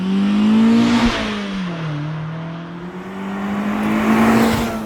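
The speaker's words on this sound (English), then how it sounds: "Very revvy engine" The engine of a Mazda MX-5 ND3 revs hard and climbs through several rises and dips in pitch, loud and close, with no talking.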